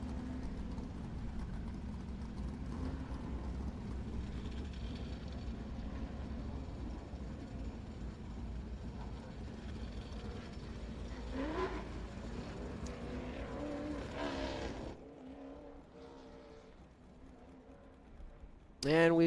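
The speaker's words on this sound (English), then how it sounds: "We've got a late model out there that is going to take a few laps, just shaking it down, actually." A late model race car circles the track on a shakedown run at a North–South Shootout meet at Caraway Speedway, its engine a steady distant drone with a passing swell near the end and people talking over it.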